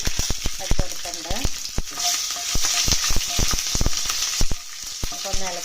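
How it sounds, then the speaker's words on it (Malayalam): Fenugreek seeds, red chillies and mustard seeds splutter in hot oil for a tamarind curry, with sharp repeated pops and crackles over a steady close sizzle, no talking. "നമുക്കിനി ചുമന്ന മുളകും കടുക് പൊട്ടിക്കാനുള്ള ഇട്ട് കൊടുക്കാം."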